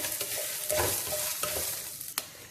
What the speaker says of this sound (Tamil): இது எல்லாமே நல்லா கொஞ்சம் ப்ரௌன் ஆகிற வரைக்கும் வறுத்து எடுத்துக்கலாம்